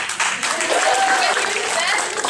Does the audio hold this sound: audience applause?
yes